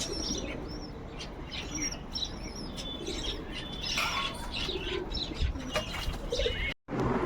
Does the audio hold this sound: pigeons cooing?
yes